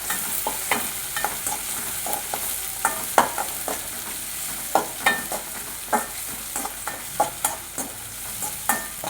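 Onions and a green chili sautéing in a pan for pepper chicken gravy, a steady sizzle of frying punctuated by regular scraping and clinking spatula strokes, close and without talk.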